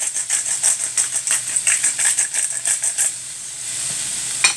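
Lamb meat seasoned with black pepper frying in a pan, stirred with a run of quick rhythmic scraping strokes over a steady hiss of sizzling that continues alone once the stirring stops.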